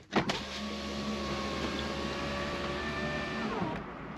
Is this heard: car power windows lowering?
yes